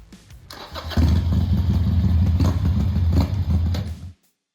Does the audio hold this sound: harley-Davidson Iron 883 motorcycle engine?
yes